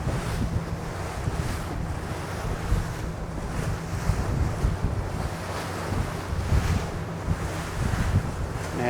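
Steady wind roars over rough sea as waves slap and surge around a fishing boat out stone crabbing, a continuous loud wash of surf and wind buffeting with no voices.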